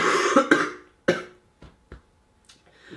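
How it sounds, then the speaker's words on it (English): A person coughs several times, with a couple of strong coughs early on followed by smaller throat-clearing hacks, close and clear in a quiet room. "Don't wait for me to cough."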